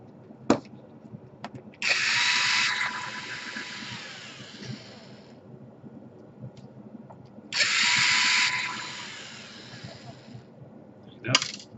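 A power screwdriver backing a tiny screw out of a Toshiba Satellite L655 laptop whirs in two bursts of about two seconds each, separated by quiet handling clicks and taps, close and fairly loud.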